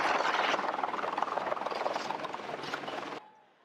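Police helicopter over a chaotic street scene in northwest Baltimore, a loud, roaring rotor wash that dominates before cutting off abruptly to near quiet.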